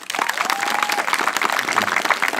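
A studio audience at a live comedy club show breaks into loud, dense clapping that holds steady for a couple of seconds, with no voices over it.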